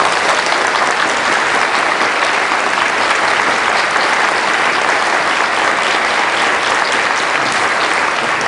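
Sustained, dense applause from hospital staff gathered for an address by the hospital director, loud and steady throughout with no break or voice over it.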